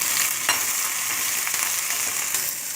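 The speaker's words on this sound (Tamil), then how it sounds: "ஒரு சின்ன கடாயில் தேவையான அளவு எண்ணெய் விட்டுட்டு கடுகு போட்டு தாளிச்சிக்கோங்க" Mustard seeds tempering in hot oil in a small kadai give a steady, close, loud sizzling hiss with a few sharp pops and crackles scattered through it.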